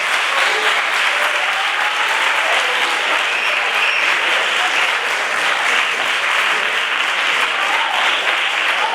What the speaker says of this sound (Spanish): dale un aplauso a la profe